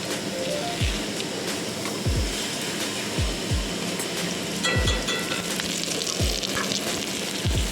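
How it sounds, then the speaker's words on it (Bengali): Black cumin and bay leaves tempering in hot oil in a kadai, giving a continuous loud crackling sizzle with repeated low thuds of handling, close up. "তেল দিয়ে কিন্তু কালো কালো জিরে আর তেজপাতা ফোড়ন দিয়ে দিলাম"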